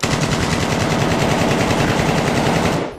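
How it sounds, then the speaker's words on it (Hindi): An AK-47 fires one sustained automatic burst for about three seconds. The rapid shots run loud and close together, then cut off abruptly at the end. "AK-47 1 मिनट में 600 गोलियां दागने वाला हथियार।"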